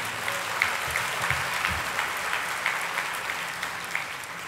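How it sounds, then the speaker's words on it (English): An audience at a lecture on US–China relations breaks into steady, moderately loud applause, a dense even patter of many hands clapping with no voices over it. "So a special round of applause for the three of them."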